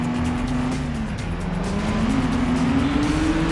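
A pickup truck roars through a stunt course in the Stuntman video game, its engine droning steadily with a rising pitch, tires squealing through a handbrake turn, loud and close with no talking.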